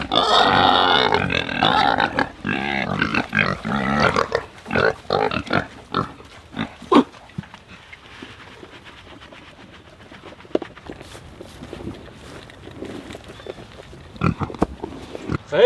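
Pigs grunt and snort in a rain-soaked, muddy farm pen, a rough series of close, uneven grunts that is busiest at the start and thins into scattered snorts and shuffling.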